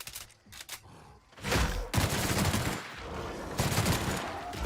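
Rapid bursts of automatic gunfire in The Outer Worlds fill a combat scene, first scattered and intermittent, then sustained loud volleys that continue almost without break.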